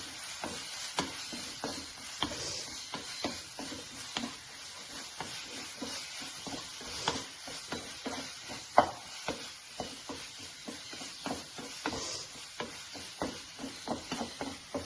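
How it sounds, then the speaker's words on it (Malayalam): Chicken curry is stirred in a pan, with a spoon scraping and clicking against the metal in quick irregular strokes over a soft, steady sizzle. "ഇനി നമ്മൾ നന്നായിട്ടത് മിക്സ് ചെയ്ത് കൊടുക്കാം."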